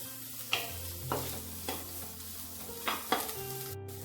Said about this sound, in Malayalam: നമ്മൾ കട്ട് ചെയ്ത് വെച്ചിരിക്കുന്ന സവാളയും കൂടി ഇട്ട് നല്ല പോലെ ഇളക്കി കൊടുക്കണം